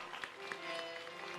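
Faint applause from an audience at a government event opening new school classrooms in Delhi, a soft steady patter of clapping lasting a moment with a few sharper claps standing out.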